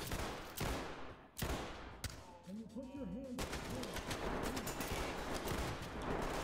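Dense bursts of enemy gunfire in the tactical shooter Ready or Not, with several sharp shots at the start followed by sustained rapid, noisy firing and chaotic clatter, while a voice briefly speaks in the middle.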